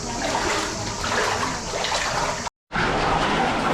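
Continuous loud splashing and sloshing of water, like wading through deepening water in a tunnel, broken by a brief moment of silence.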